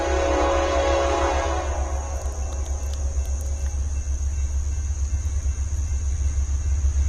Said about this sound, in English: here comes a train right in the middle of the lesson